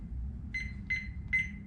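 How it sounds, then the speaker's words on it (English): A Thermoworks meat probe base unit sounds its alarm at maximum volume, three short electronic beep bursts spaced about every 0.4 seconds over a low background hum, with no talking. "I'll let you hear what the alarm sounds like on the base unit."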